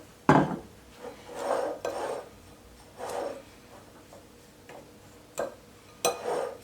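Cauliflower being tossed with thyme, black pepper, salt and a spoonful of olive oil, heard as repeated close scrapes and clatters of a utensil against a dish in uneven bursts, with no voices.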